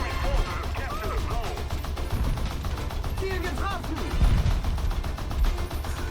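Rapid machine-gun fire from a single WWI-era aircraft gun in War Thunder, dense and continuous under engine drone and other game noise, with bursts swelling around the middle and end.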